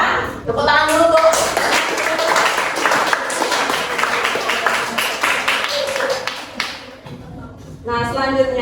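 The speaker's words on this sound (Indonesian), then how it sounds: "Tepuk tangan dulu tuh." A classroom of students claps together in a dense, steady burst lasting several seconds, with a teacher's voice speaking just before and after the clapping.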